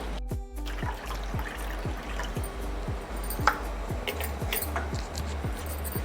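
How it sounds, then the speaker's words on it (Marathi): Water poured into semolina batter for crispy rava papad, a soft steady trickle and gurgle heard close up with small clinks, with no talking. "आणखीन एक कप पाणी टाकायचं आहे"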